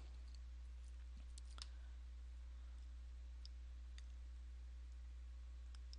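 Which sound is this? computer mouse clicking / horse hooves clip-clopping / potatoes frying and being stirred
computer mouse clicking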